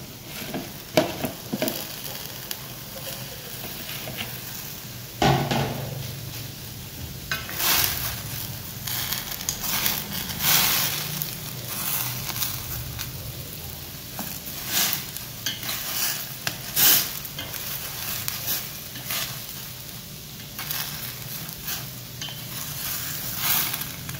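A pot of salted water with crab's claw greens boils on the stove, giving a soft, steady bubbling and sizzling hiss. Occasional clinks and stirring knocks from utensils against the pot break through it.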